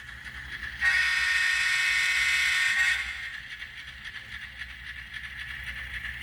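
A model GE Evolution (Gevo) locomotive pulls forward on a model railroad layout. A steady, fairly loud mechanical whir runs for about two seconds, then fades into quieter motor hum and faint clicking.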